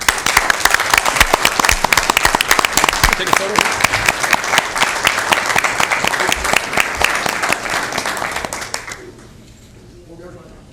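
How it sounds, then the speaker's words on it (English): Loud, dense audience applause at a county Board of Supervisors meeting, sustained for about nine seconds before fading out, with voices talking over it and a brief spoken request near the end. "So Okay, we're going to applaud all of you."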